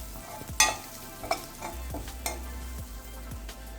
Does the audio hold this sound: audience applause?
no